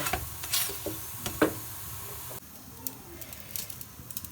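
A paratha fries in oil on a pan with a steady, moderate sizzle and hiss, broken by a few spatula scrapes and pops, with brief low voices in the background.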